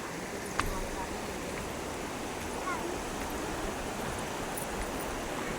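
A steady, even rush of flowing river water in the Konkan countryside fills the whole stretch, broad and continuous with no clear breaks.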